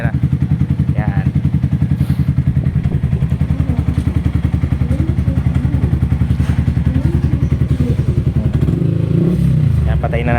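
Sniper 155 motorcycle with an upgraded exhaust idling loud and close, a fast, steady thumping exhaust pulse with a slight rise in revs near the end; someone talks over it.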